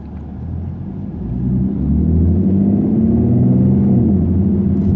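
A Ford Mustang with a 3.7L V6 and a dyno tune pulls away in sport mode, its low engine rumble swelling from a steady idle-like drone into a fuller, louder hum that holds for several seconds, heard from inside the car.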